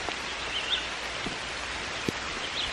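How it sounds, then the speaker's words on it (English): Rain falling outdoors in Trinidad, a steady wash of patter with a few sharper drops landing close by, sounding fairly soft and continuous without any voices over it. "It's raining on us, guys."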